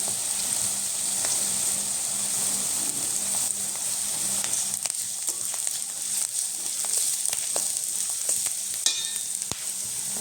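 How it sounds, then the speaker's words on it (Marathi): Ginger, garlic and green chili paste hits sautéed onion for an amaranth-leaf and moong dal dish, crackling in a loud continuous sizzle with scattered spoon scrapes and pops throughout. "कांदा थोडा परतलेला आहे मी आता जी अद्रक लसूण पेस्ट केली होती मिरचीची ती घालते"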